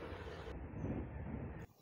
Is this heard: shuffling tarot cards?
no